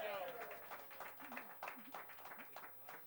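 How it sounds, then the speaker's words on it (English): A studio audience at a late-night comedy show gives a short round of applause, scattered claps heard under a host's ongoing talk. "Let's have a round of applause for JoJo's shoes."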